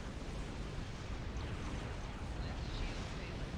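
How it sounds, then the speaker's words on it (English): Warp core explosion in the Star Trek Online game, a dense, continuous rumbling roar with crackling bursts that stays loud and steady throughout, with no pauses. "we're a little too close to that warp core explosion"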